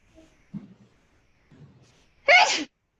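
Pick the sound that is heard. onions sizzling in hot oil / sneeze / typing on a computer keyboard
sneeze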